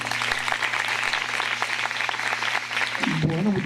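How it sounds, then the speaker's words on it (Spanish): An audience applauds in the town square of Patillal, steady clapping at moderate volume with a low hum underneath, and a voice begins speaking near the end. "la recibamos con un fuerte aplauso."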